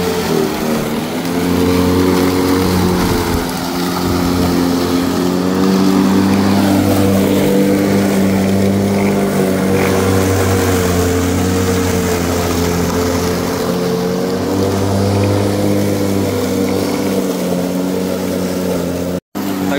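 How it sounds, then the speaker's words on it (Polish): An AL-KO Classic 3.82 SE electric lawn mower runs loudly and close by through high grass, giving a steady droning hum that wavers slightly in pitch and load over about twenty seconds, then cuts off abruptly. "I drugi minus, jest bardzo głośna."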